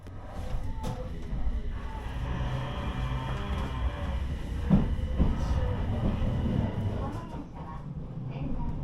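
Mini Shinkansen train pulling out of Yamagata station, a steady low rumble of wheels and running gear with faint rail clicks, heard from inside a carriage; a voice talks over it.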